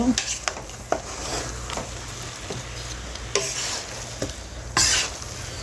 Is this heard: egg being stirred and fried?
yes